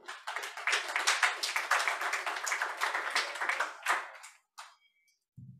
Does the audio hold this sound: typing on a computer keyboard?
no